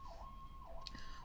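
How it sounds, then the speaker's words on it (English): An emergency vehicle siren on a Philadelphia street wails with a rising and falling tone, distant and faint, repeating its sweep twice in a short burst over low city rumble. "The sirens, I'm sorry, I can't control those."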